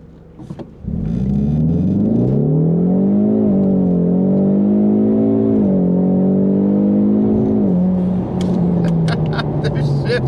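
A 2020 Ford Mustang EcoBoost High Performance Package with a turbocharged 2.3-liter four-cylinder fires up and accelerates hard from a standstill, pitch rising steadily through the gears with a couple of hard shifts, loud and close, ending in clattering noises.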